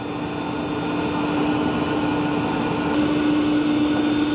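Dreame L20 Ultra robot vacuum and mop running steadily over carpet, a continuous close whirring motor drone with a constant tonal hum and airy hiss, no pauses and no voices.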